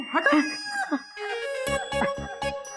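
Chicken sounds heard in a Hindi TV sitcom scene: clucking and a crowing call, loud and close, with rapid rhythmic bursts toward the end, alone without talk.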